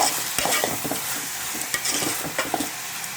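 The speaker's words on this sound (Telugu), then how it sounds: "చక్కగా అన్నీ కలిసేలాగా మిక్స్ చేసుకోవాలి ఉల్లిపాయ ముక్కలకి" A spoon stirs onion pieces through a curry frying in a pan for an egg pulusu, a steady close sizzle broken by repeated scraping strokes, loud and continuous with no talking.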